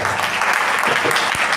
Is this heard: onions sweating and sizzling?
no